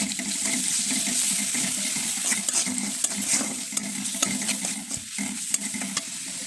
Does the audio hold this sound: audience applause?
no